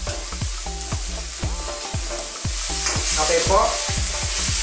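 Shrimp stir-frying in a pan with fish sauce, a steady loud sizzle broken by a regular rhythm of spatula scrapes and stirs, growing a little louder toward the end, with a brief spoken word.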